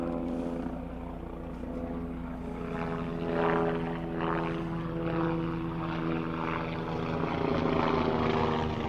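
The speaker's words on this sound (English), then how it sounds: "Oh, helicopter's coming right overhead." Helicopter passing overhead outdoors, a continuous rotor and engine drone with a buzzing throb that swells slightly as it moves over, fairly distant and steady throughout.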